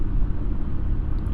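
A car drives along with a steady low engine and road rumble heard from inside the cabin, with no voices in this brief moment.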